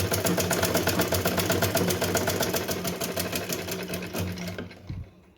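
Electric sewing machine stitching the waist seam of a small Laddu Gopal dress, a fast steady mechanical whirring drone with rapid needle clatter that slows and stops near the end.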